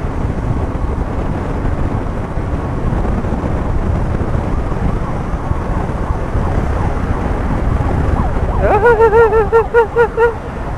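An ambulance siren rises in at the end, with warbling tones over loud road and wind noise from a moving vehicle.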